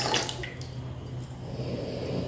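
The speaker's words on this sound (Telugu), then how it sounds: "ఇందులో కొంచెం నీళ్లు పోసి ఇవి కూడా ఇందులో పోసేద్దాం" Water is poured into soaked rava batter for bun dosa before grinding, a brief, faint splash and trickle.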